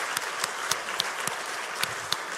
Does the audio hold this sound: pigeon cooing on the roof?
no